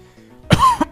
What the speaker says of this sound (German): Das war ein Huster.